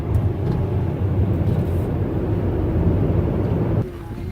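Car cruising along a coastal road on windward Oahu, a steady close rumble of engine and road noise with some wind buffeting, easing off slightly near the end.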